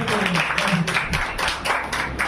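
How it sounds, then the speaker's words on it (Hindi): A church congregation claps to welcome newcomers, a short burst of dense, steady applause from many hands, moderately close and filling the room. "तालियों से इनका स्वागत करेंगे"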